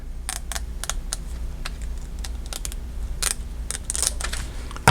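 Scissors trim Dollar Tree planner stickers in a series of quick, close snips and clicks, irregular and crisp, with no voices.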